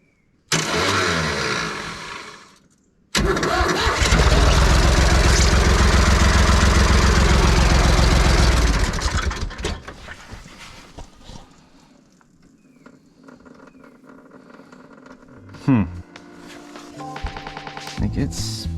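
A tractor bought at auction with a leaking cooling system cranks after a short first attempt, then catches and roars loudly up close for several seconds before shutting off. Quieter handling noises follow.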